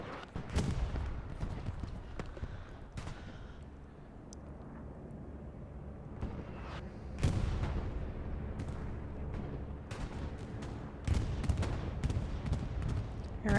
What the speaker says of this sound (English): Defensive bombing run coming down there from 3 LPZ